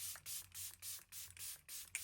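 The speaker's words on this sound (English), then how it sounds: "I like to now go in with a setting spray just to kind of seal all the creams in before I powder." Fenty Beauty makeup-extending setting spray is misted onto a face in about seven quick, evenly spaced spritzes, each a soft, close hiss, with no talk.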